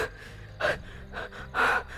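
An injured man pants and gasps for breath, two sharp ragged intakes standing out over quieter breathing, close and alone.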